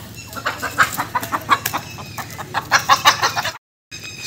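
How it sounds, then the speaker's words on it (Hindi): Chickens let out in the morning in a village yard cluck and squawk in quick overlapping bursts, close and lively, before a brief dropout of sound. "मुर्गियाँ वगैरह बाहर निकाल दी हैं सुबह सुबह।"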